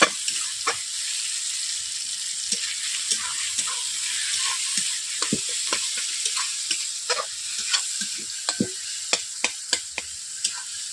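Tomatoes and spices frying in mustard oil for a Bengali rohu fish curry, giving a steady bright sizzle broken by repeated sharp taps and scrapes of a spatula against the pan, with no talking.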